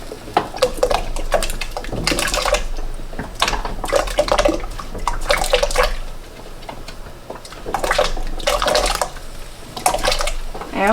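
Repeated splashy plops and clatters as potatoes drop into hot water on a stove to be scalded for pressure canning, in irregular bursts with brief pauses between.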